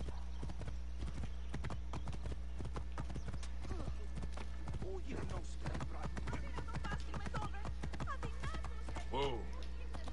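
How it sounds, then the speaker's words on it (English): A horse in the video game Assassin's Creed Origins clip-clops along near a shoreline in rapid, rhythmic hoofbeats that run steadily throughout, under a low constant hum, with faint speech-like sounds mixed in. "my horse is trying to run into the ocean"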